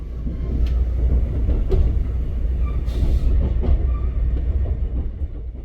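Onboard a slow-moving train on Korea's Jeongseon line through a riverside valley, a steady rumble of wheels and carriage with faint clicks and squeaks, continuous and close.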